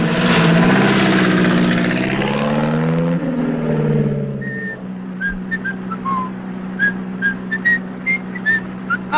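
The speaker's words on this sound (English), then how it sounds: "Right, stand by for takeoff." A vintage propeller aircraft engine in a 1950s British airfield setting runs up loudly and steadily for takeoff with a droning whine, then eases off while short whistle-like tones chirp over the remaining hum.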